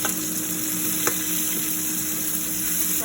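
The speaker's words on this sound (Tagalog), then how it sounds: "Ayan po, mainit na mantika. Ilagay ang bawang, buyas, kamatis" Garlic, onion and tomato hitting hot oil in a pan, a loud, continuous close sizzle with one brief clack of a utensil partway through, alone without talk.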